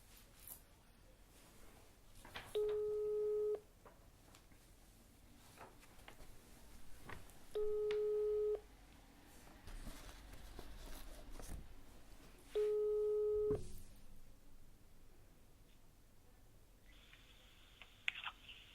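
A telephone ringback tone plays over a speakerphone, three evenly spaced steady tones about five seconds apart, with faint clicks and handling sounds in the quiet gaps.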